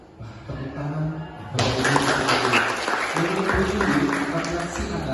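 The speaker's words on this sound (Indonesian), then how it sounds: "Tepuk tangan." A room of people at a school principals' session bursts into applause, steady clapping that carries on for several seconds after a voice speaks briefly in Indonesian.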